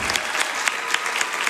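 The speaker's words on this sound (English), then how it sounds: "Can we get a round of applause for all these incredible donations?" Audience applause at a Summer Games Done Quick speedrun charity event, a dense burst of clapping from a large crowd, loud and sustained.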